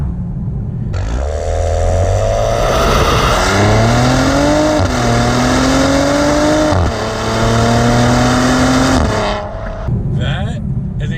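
A Maserati Ghibli engine revs loudly and close, its pitch climbing and dropping with each gear change as the car pulls through several shifts before the sound cuts off near the end.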